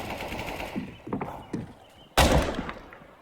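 Gunfire in the video game CS:GO: scattered sharp shots crack through the first half, then a loud, dense burst of fire erupts near the end and fades out.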